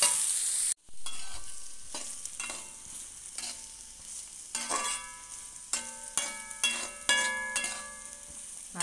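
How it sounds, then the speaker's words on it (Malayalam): Beetroot with garlic sautés in a pan, stirred with repeated scraping strokes over a steady sizzle, the strokes bunching into a quicker rhythm toward the end. "ബീറ്റ്റൂട്ട് ഇട്ട് ഇത് ശരിക്കൊന്ന് വഴന്ന് വരട്ടെ. നല്ലവണ്ണം വഴന്ന് വരണം. നല്ലവണ്ണം ഇളക്കി ഇളക്കി ഇളക്കി നല്ലവണ്ണം വഴന്ന് വരണം."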